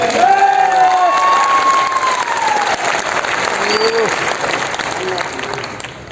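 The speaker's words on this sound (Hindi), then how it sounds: "एक बार ताली बनती है पीवीएम में।" Audience at an RCM business academy gathering in Bhilwara applauds loudly, dense clapping mixed with cheers and whistles, close and continuous, tapering slightly near the end.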